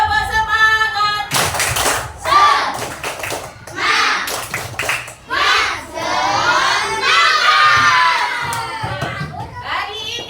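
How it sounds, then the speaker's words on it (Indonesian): Schoolchildren in a classroom perform a spirit clap, rhythmic bursts of loud group clapping mixed with excited shouting and chanting voices, close and energetic throughout. "Yuk, tepuk semangat."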